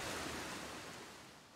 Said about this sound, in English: Pretty little stream.